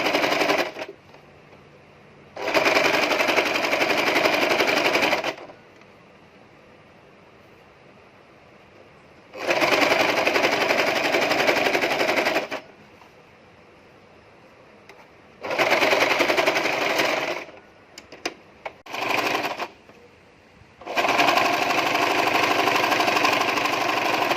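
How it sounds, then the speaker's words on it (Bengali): A sewing machine runs stitching the heavy side seam of a princess cut nighty, loud buzzing bursts of a few seconds each separated by quiet pauses, with a couple of short stutters near the end. "আমি এখন সাইডটা সেলাই করে দিচ্ছি।"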